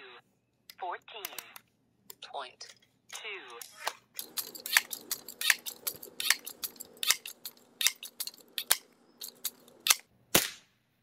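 Repeated shots from a Crosman 362 .22 caliber pump air rifle, about a dozen sharp cracks in uneven succession, with pumping strokes early on and a steady hum beneath.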